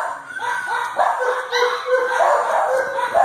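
In the crowded dog room of an animal shelter, several dogs bark and yip over one another without a break, filling the space with steady, overlapping barking at close range.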